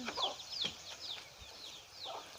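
Chickens cluck and squawk nearby in a quiet outdoor village setting in Laos, several overlapping calls in short bursts, with goats close by.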